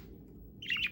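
A pet budgie gives a short burst of bright chirps near the end, close and fairly loud over a low background hum, with no talking.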